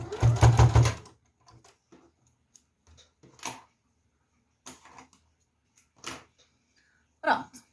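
A sewing machine stitches a wallet flap in a short, loud mechanical whirr lasting about a second, followed by quiet pauses broken by scattered clicks and handling taps.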